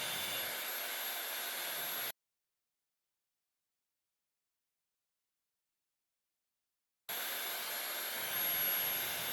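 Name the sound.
Dyson Supersonic Nural hair dryer blowing air with diffuser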